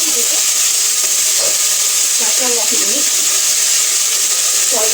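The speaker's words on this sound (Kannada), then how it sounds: "ಇವಾಗ ಒಗ್ಗರಣೆ ಎಲ್ಲ ಚೆನ್ನಾಗಿ ರೋಸ್ಟ್ ಆಗಿದೆ" Spices and coconut sizzle in hot oil as a tempering, with a constant bright crackling hiss, while a voice murmurs faintly underneath.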